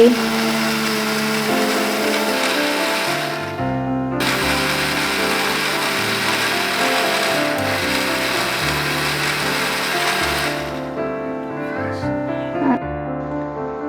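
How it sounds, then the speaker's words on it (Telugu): An electric kitchen mixer whirs steadily as it blends palm fruit (ice apple) with chilled milk into a milkshake, a loud continuous motor drone that briefly dips and shifts pitch before cutting off near the end. "ఇప్పుడు చిల్డ్ మిల్క్ పోసేసుకుని మళ్ళీ మిక్స్ చేసేసుకోవాలి"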